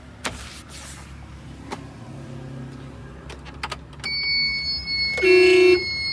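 A single short horn blast from a 2015 Tata Ace HT truck sounds near the end, following scattered clicks and a steady engine-like background hum.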